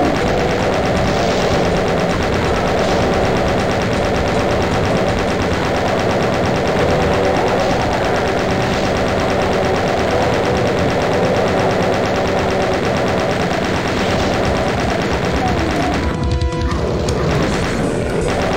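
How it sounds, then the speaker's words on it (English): Chain gun rapid fire in the video game Doom, a loud, dense, continuous stream of gunfire with crashing impacts and game noise, sustained for the whole stretch with a brief louder burst near the end. "We might want to use the chain gun here just for some rapid fire."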